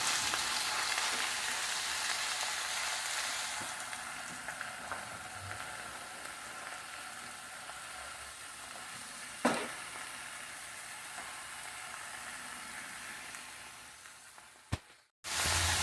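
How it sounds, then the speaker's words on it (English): Steady, loud sizzling of skirt steak frying in a hot pan, continuous crackle throughout with a brief clatter near the end. "So you want to hear that sizzle."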